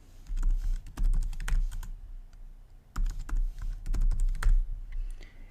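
Computer keyboard typing a password, two close bursts of quick clattering keystrokes separated by a short pause.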